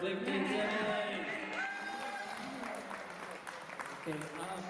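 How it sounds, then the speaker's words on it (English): Applause from a live studio audience for a comedian at a New Year five-year anniversary podcast taping, a steady wash of clapping running the whole time with voices mixed in. "Give a round of applause for Clifton Simmons."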